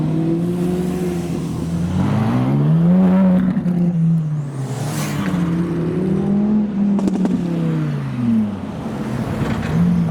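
A modified Ferrari 458 revs repeatedly at a supercar rally start line in London, its engine note rising and falling in several sharp, loud sweeps, with other cars audible nearby.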